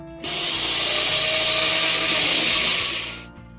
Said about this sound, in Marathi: आता हे आपण छान मिक्सरला बारीक करून घेऊयात